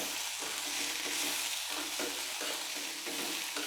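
A sautéed mixture with coconut sizzles continuously in a pan as it is stirred, a close, even frying hiss with soft scraping and no talking.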